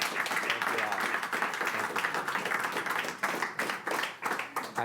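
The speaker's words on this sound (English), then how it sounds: "Another great big round of applause" Studio audience on a live talk show claps for a musical guest, a dense steady patter of hands lasting several seconds at moderate loudness, with voices mixed into the crowd noise.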